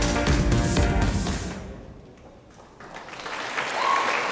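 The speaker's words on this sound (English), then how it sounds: "Big round of applause for Jacques." Audience applause at an award show, a loud burst of clapping that fades out after about a second and a half, then swells again toward the end.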